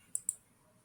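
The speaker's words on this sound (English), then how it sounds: "now I'm clicking on this image" Two quick, crisp computer mouse clicks land close together near the microphone, then a quiet room tone follows.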